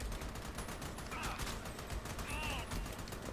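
Rapid bursts of automatic gunfire aimed at a turret in the video game Army of Two, dense and continuous under game noise with a voice talking.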